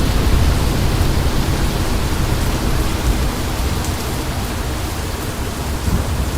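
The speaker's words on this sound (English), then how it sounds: "heavy downpour right now" Heavy rain pours down in a storm-chasing video game, a dense steady roar of downpour filling the whole scene with a low rumble of thunder underneath, loud and continuous with no voices.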